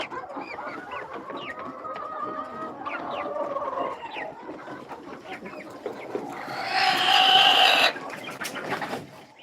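Desi hens on a poultry farm cluck and murmur close by, with a louder, squawking burst of clucking partway through.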